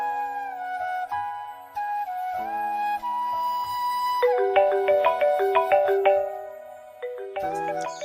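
A mobile phone ringing with an incoming call, its bright melodic ringtone repeating loud and clear for several seconds with no one talking over it.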